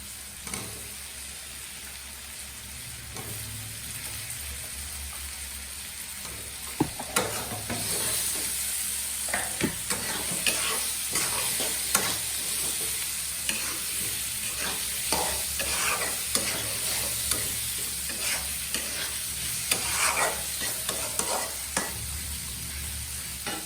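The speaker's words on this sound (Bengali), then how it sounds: "এখন আমি দিয়ে দিব আলুগুলো দিয়ে মশলাটাকে সাথে ভালো করে কষিয়ে নেব" Potatoes sautéed with spice paste in a pan for a tomato fish curry, a continuous close sizzle with repeated scraping and stirring strokes of a spatula, steady and unbroken, no voices.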